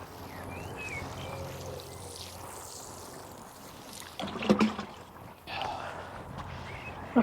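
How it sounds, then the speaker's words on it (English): Water poured from a watering can onto strawberry plants at an allotment, a soft steady trickle with a few louder splashy bursts near the end, under faint background sound. "We're going to water the strawberries."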